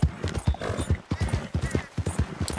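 Horse hooves clop in a quick steady gait while riding in Red Dead Redemption 2, close and distinct with faint background game sound.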